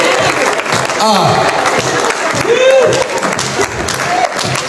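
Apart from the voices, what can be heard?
congregation applauding in church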